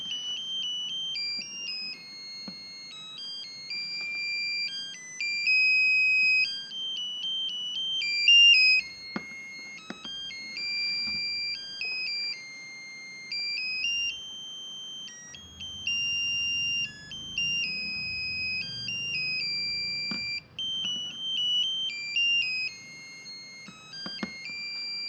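A small melody IC buzzer module, ZL66T type on 3.7 V DC, plays a shrill electronic siren melody of stepping, warbling high tones that runs continuously and fairly loud, with faint clicks and handling noise underneath.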